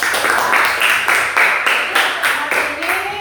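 A class of children clapping hands together in a rhythmic pattern, a series of loud, close bursts of claps in quick groups, with some voices mixed in.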